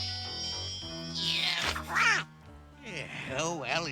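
A cartoon duck quacks over voices in an animated Rainbow Brite episode. Two bursts of quacking stand out, the second a rapid run of squawks, and a musical tone underlies both.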